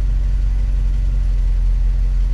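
An International Scout engine idles at about 750 rpm, a steady, smooth low-pitched drone with an even pulse, close and continuous with no talk.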